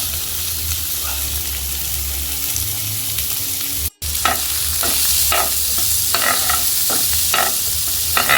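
Garlic and onion sauté together in a pan as the base for paella, giving a steady close sizzle with scrapes and clicks of stirring throughout and a short dropout midway.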